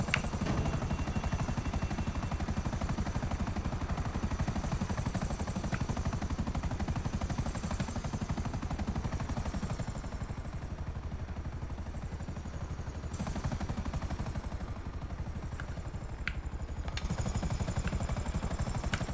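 A Buckingham Akula stealth gunship helicopter in GTA flies with a continuous loud rotor and engine drone that holds steady throughout, with a slight dip in the middle and no talk.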